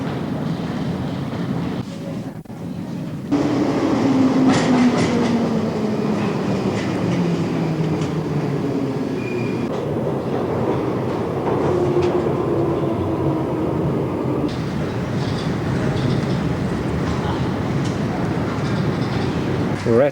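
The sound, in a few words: London Underground train at Piccadilly Circus station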